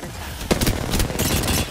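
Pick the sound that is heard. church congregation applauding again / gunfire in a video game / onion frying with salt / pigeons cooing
gunfire in a video game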